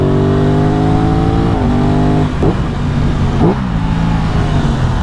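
A motorcycle on Pirelli Rosso Corsa 2 tyres revs loudly and steadily, its engine note dipping and then surging again through two quick shifts, close and continuous with no one speaking.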